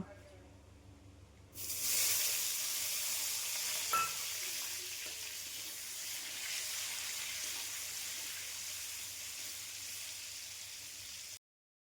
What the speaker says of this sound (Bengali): এবার কড়াইয়ের মধ্যে একটু তেল দিয়ে তার মধ্যে আমরা পনিরটাকে হালকা করে ভেজে তুলে নেব।